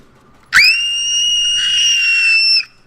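A player character in PUBG lets out one loud scream, a sharp onset followed by a sustained high shrill cry lasting about two seconds, then cutting off.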